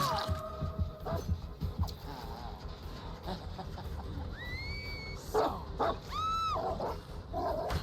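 A dog in the Dead by Daylight video game yelps and whimpers in short bursts, with rising whine-like cries amid game effects, heard fairly quietly.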